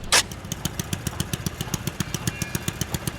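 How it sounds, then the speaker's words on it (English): A rotavator engine runs close by with a rapid, even chugging pulse, its steady mechanical putter continuing throughout after a short sharp knock at the start; no voices. "I've brought our rotivator."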